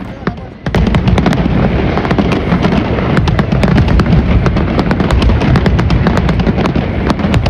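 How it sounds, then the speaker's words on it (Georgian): Rapid, continuous fireworks at Valencia's Fallas festival, part of an 18-minute nonstop night display: dense, loud bangs and crackling pops fire in quick irregular succession throughout, after a brief quieter opening. "ათასობით ადამიანი იკრიბება 18 წუთიანი უწყვეტი ფეიერვერკის საყურებლად"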